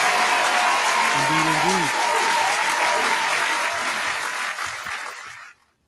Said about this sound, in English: The round of applause for our Patreon members